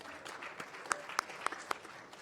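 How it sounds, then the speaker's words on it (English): An audience applauds a speaker at an urban youth innovation and peace forum. The applause is faint and brief, with a few sharper claps standing out from a soft, scattered patter. "A round of applause for Raphael."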